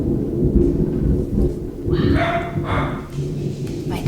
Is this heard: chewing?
no